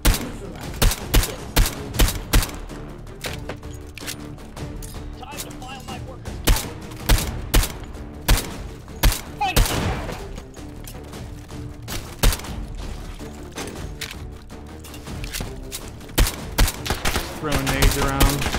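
Rapid AR rifle gunfire in the VR shooter Take and Hold, with repeated sharp bursts of shots in an uneven rhythm over a busy game soundscape, close and loud throughout.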